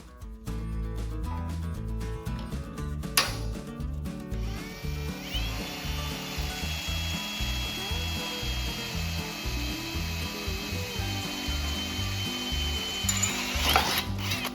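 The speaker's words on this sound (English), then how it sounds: "I'm gonna go ahead and grab a bit, drill that real quick" A drill bores a hole in car body metal while the cowl is assembled on a Hemi-powered 1928 Ford Model A coupe, a continuous grinding whir with a rising whine partway through, close and steady for the whole stretch.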